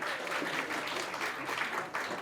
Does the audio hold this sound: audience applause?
yes